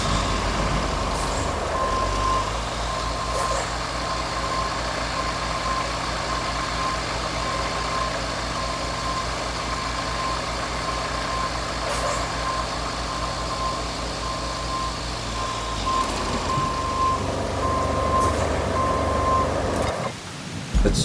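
A truck in the Roadcraft video game idles and backs up, its engine rumbling steadily under a repeated reversing beep that runs through most of the stretch, loud and close, then the engine note shifts near the end.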